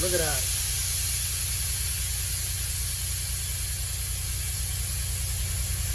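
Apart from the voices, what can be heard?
vehicle engine idling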